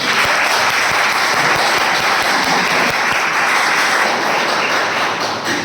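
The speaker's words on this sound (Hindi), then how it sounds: "मैं चाहूँगा आप सभी के लिए एक जोरदार ताली होनी चाहिए।" Loud, sustained clapping from the audience at a health awareness seminar's closing session, dense and steady with sharp individual claps standing out early on.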